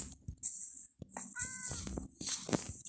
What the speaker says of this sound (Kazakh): мына жақта мысық жүр